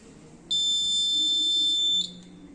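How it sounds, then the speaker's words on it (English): A high, piercing electronic buzzer from a laser security system science exhibit sounds one steady continuous tone for about a second and a half, then cuts off abruptly, loud over quiet room noise. "the laser will transmit the light on the sensor. Then it will, and then the buzzer will start alarming."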